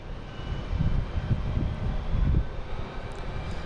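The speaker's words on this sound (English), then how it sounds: "Next coming in is American Airlines and E175 coming in from LaGuardia." An American Airlines Embraer E175 jet arrives at Boston Logan from LaGuardia, its engines producing a steady, moderately distant low rumble that swells slightly and holds throughout, with no voices.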